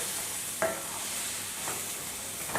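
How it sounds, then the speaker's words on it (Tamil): Brinjal and green peas masala is stir-fried in a pan with a soft, continuous sizzle and three faint scraping stirs spaced about a second apart, fairly quiet and close. "நல்லா வதக்கிடலாம்."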